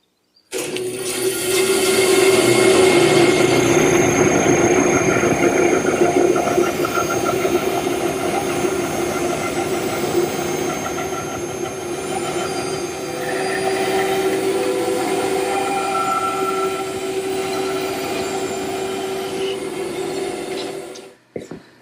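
A bandsaw resaws a board, its blade set to about 3/16 inch, giving a loud, steady whining roar that runs close and alone for about twenty seconds before cutting off abruptly at the end.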